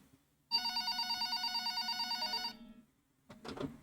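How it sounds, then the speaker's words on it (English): A telephone on a shop counter rings with a bright electronic bell trill for about two seconds, loud and alone, then stops before a faint rustle follows. "The phone on the counter rang."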